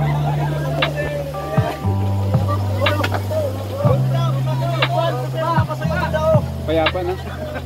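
A racing motorboat's engine drones steadily during a boat race, its low hum stepping up and down in pitch while people talk and chatter nearby throughout.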